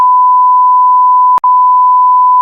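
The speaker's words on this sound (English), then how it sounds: "We shouldn't have to bleep this shit." A loud, steady censorship bleep, one continuous pure tone held for a couple of seconds and cut by a short break partway through, with nothing else under it.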